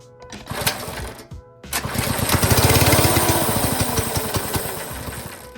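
A homemade moped's small engine sputters briefly, cuts out, then starts and revs up in a rapid, loud, close rattling putter that swells and slowly eases back.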